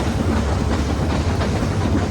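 A train rumbles steadily along the rails, a continuous loud clatter and roar heard from inside a general coach just behind the engine.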